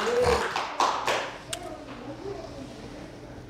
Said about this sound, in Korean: 주께 영광의 박수 하겠습니다.